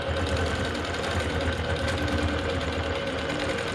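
A longarm quilting machine stitches a paper-pieced medallion quilt, guided along rulers, with a fast steady mechanical chatter that runs unbroken throughout at moderate loudness.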